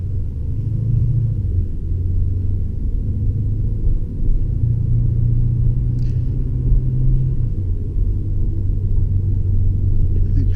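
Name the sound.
Lexus RC F engine downshifting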